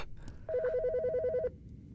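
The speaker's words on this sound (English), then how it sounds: "The fucking phone." A telephone rings once with a rapid warbling electronic trill lasting about a second, fairly quiet and alone in a still room.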